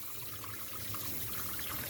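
Dirty water gushes out of a car heater pipe in a steady close splashing stream that stays constant and loud throughout.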